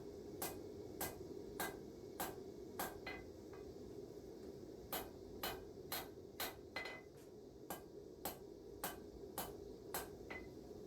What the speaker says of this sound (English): I'm going to be using a 4-pound hammer here to go in and form the tip